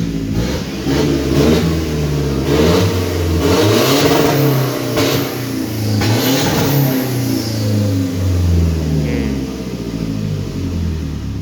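A Toyota Hilux Revo engine fitted with a remap box, its stepper motor removed, revs repeatedly, loud and close, rising and falling over a steady rumble with no talk.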